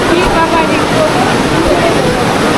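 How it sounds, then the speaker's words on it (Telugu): The Alaknanda river near Badrinath rushes past in a steady, loud wash of flowing water that fills the whole moment without a break. "సో రివర్ ఫ్లో అవుతుంది కదా"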